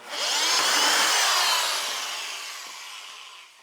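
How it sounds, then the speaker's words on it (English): A drill fitted with a 1-inch hole saw bores through material in one continuous whirring cut that rises quickly, holds for about a second and a half, then gradually tapers off, close and moderately loud. "I got my lucky 1-inch hole saw."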